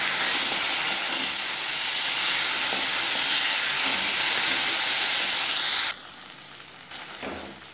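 Tomatoes sizzle steadily in a hot pan over lightly browned onions, a loud continuous frying hiss that suddenly drops to a quieter simmer near the end.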